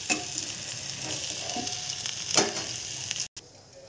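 Eggplant slices fry in a pan with a steady close sizzle, broken by a few soft scraping and turning sounds as the slices are flipped.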